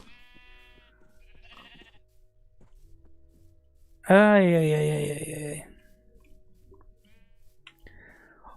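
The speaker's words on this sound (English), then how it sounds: "Oh my gosh, look at all these sheep." A single loud, close sheep bleat from Minecraft, a drawn-out wavering cry lasting about a second and a half, set between quiet stretches with brief talk nearby.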